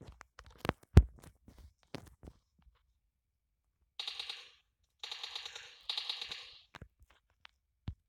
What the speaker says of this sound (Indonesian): Tembak, hancurin pintunya.